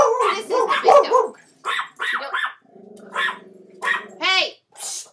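A dog barks and growls close by in a series of short bursts with brief pauses between them, along with a few yips.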